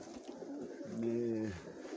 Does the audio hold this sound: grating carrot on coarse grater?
no